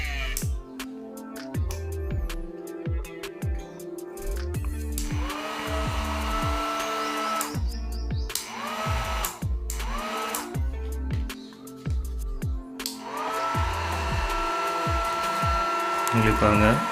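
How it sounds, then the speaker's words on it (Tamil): A small 3D-printed DIY bladeless fan runs with a steady, airy motor whir that holds throughout, while other layered sound with tonal, harmonic bands plays over it. "ஒரு தடவை ஃபேன் ஆன் பண்ணி செக் பண்ணிக்கலாம்"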